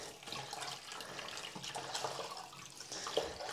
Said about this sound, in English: I'm just going to rinse this off a little bit